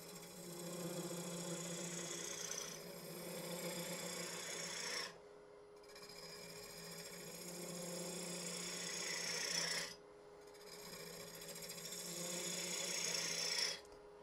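A turning tool making a slicing cut on thin wood spinning on a lathe, with close, rasping shaves in three long passes separated by brief pauses, each pass building slightly in intensity.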